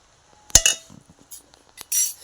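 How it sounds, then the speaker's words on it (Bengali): Rice being served onto a plate at home for lunch: a few quick metallic clinks and scrapes of a serving spoon against dishware, close and brief, separated by near silence. "ভাত বেড়ে নিলাম"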